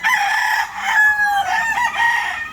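A rooster crows in a farm chicken coop, with long, loud, wavering calls close by while other chickens cluck through the background.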